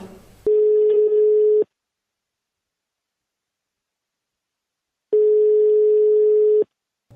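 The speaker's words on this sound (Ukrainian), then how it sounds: "ми зв'язалися з ним по телефону" Two long, steady telephone call tones sound clearly over a phone line, separated by silence, as a call is placed to a sportsman away at the Sochi Olympics.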